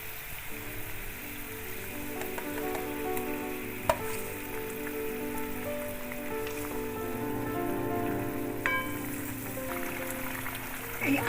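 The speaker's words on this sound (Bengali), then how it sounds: "জলটা ফুটে উঠেছে, এর মধ্যে আমি নুন দিয়ে মাখা আলু ভাজাটা দিয়ে" Salted fried potatoes dropped into a pot of boiling water: a steady bubbling, rain-like sizzle and simmer runs throughout, with a few faint clinks and splashes and no talking.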